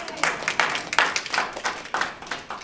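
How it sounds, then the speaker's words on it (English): An audience at a presentation applauding itself: a modest group clapping in loose, distinct bursts, fairly close and sparse rather than a dense roar, with no talk over it. "so give yourselves a round of applause"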